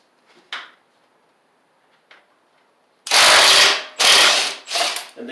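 A ratchet wrench loosens bolts on a Husqvarna YTH2042 riding mower. A few faint clicks come first, then loud, close bursts of rapid ratcheting in three or four quick runs.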